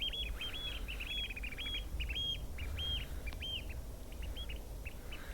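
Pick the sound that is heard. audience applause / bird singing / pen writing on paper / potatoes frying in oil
bird singing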